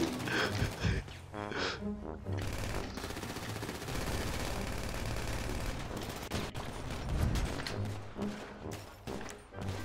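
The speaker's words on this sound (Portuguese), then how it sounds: "atira pra matar, atira pra matar" Rapid automatic gunfire from a Grand Theft Auto shootout with police crackles in dense, loud bursts across the whole stretch, with heavy shots layered together and brief lulls between volleys.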